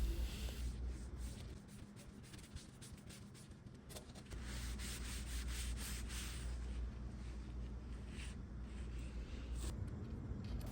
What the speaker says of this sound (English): I'm going to use this cushioned interface pad on my Festool sander to work on the legs.